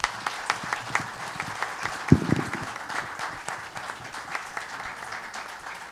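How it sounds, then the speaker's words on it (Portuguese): Audience applause at a literary event honouring Carmen Schneider Guimarães, a steady patter of many hands clapping in a hall, with a few louder individual claps standing out near the start. "Eu queria pedir palmas para Carmen Schneider Guimarães"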